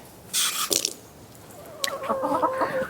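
A big Leghorn rooster crows once, fairly close, followed by scattered clucking and squawks from chickens, with no talking.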